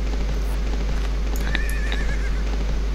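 A horse in the Minecraft video game gives a short whinny in the middle, rising and wavering over a steady, loud game background hum, with no talking.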